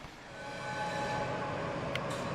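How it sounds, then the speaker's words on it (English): An intermodal freight train led by a GE ET44AC locomotive pulls up, giving a steady, moderately loud rumble and rolling rail noise with no voices. "another much smaller intermodal train then pulled up. It was being led by a GE ET44AC"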